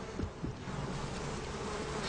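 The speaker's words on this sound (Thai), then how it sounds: "เมื่ออยู่ท่ามกลางฝูงผึ้งจำนวนมาก" A large swarm of bees buzzes all around, a dense, continuous drone that stays steady and close for the whole stretch, with no voices.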